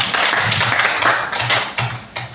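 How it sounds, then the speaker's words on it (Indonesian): An audience of teachers at a training session applauds together, producing a loud, dense, continuous wash of clapping that thins and breaks up toward the end. "Tepuk tangan dulu untuk kita semua."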